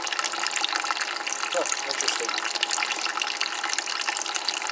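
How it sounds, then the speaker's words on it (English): Water gushes steadily through the cooling lines of a marine air conditioner on a boat, a continuous bright rushing flow, with someone briefly speaking over it. "Water flow's getting better."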